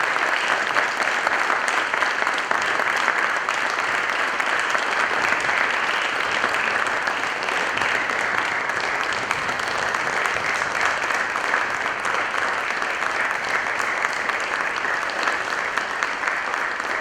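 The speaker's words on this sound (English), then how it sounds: "ladies and gentlemen, a round of applause for Ainsley Pratt" A hall audience at the Nicholls Athletics 2023 Hall of Fame induction claps in a loud, sustained round of applause that runs unbroken and even throughout, with no voices over it.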